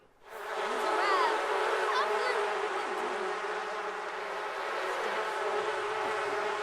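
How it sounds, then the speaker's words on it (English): A swarm of bees in The Sims 4 hums with a dense, steady buzz that rises quickly and holds, with faint wavering pitch sweeps above it. "Macy just collected one of her swarm of bees and sent them to pollinate her flowers."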